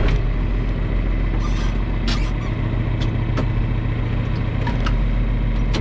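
A John Deere 3055 tractor engine starts and idles loudly and close by, a constant low rumble with a few clicks and clanks over it; nobody speaks.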